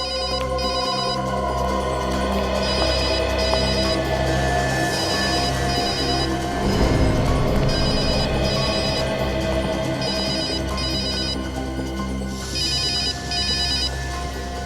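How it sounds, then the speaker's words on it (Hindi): A phone rings steadily in repeated bursts over a loud, busy background with music-like tones, no voices. "फोन कहाँ बज रहा है?"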